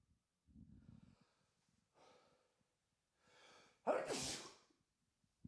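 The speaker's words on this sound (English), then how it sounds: "I think I'm about to sneeze." A few soft sniffs and quick inhales build up, then one loud, explosive sneeze close to the microphone.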